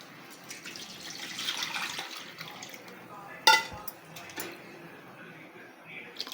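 Water runs and splashes into a metal pot nearby for coconut ghee rice with jeeraga samba rice, with a clatter of cookware partway through and faint background noise.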